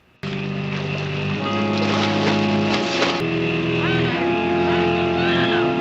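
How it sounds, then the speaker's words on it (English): A speedboat approaching in a film scene, heard as a loud, continuous engine drone with a shifting pitch beneath movie soundtrack layers, lasting several seconds. "with the speedboat heading their way"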